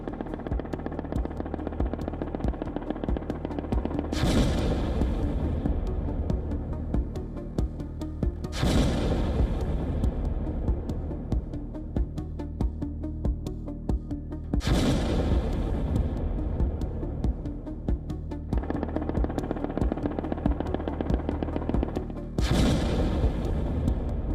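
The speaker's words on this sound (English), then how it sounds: "Explosions rip through cities." Heavy explosions and artillery strikes in wartime Ukraine, with repeated loud booming impacts about every five seconds over a dense, continuous rumble of distant fire.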